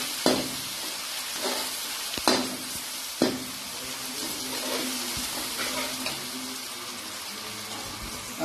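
Tomatoes added to a chicken sausage masala with garlic and ginger, steady close sizzling and frying with a few sharp clanks of a spoon against the pan, no talking.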